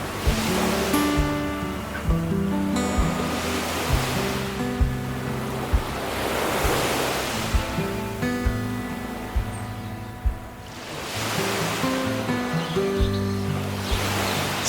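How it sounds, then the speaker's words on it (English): Ocean waves surge and break in slow swells beneath the sea-cliff arch of Cathedral Cove, New Zealand, each rush rising and fading with wind, while calm music plays throughout. "listening to the ocean waves echoing through ancient cliffs"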